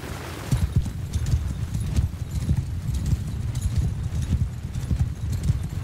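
Many horses galloping in Mount & Blade II: Bannerlord, a dense, loud drumming of hooves pounding the ground in rapid overlapping beats, continuous throughout, with an occasional faint whinny.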